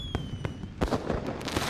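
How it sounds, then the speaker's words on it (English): Fireworks booming in the video game Love and Deepspace, a rapid series of sharp crackling bursts and thuds over a steady ambient bed, moderately loud and without talk. "Fireworks rise once more with a thunderous boom."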